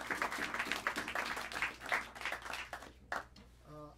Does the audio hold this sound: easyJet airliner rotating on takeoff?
no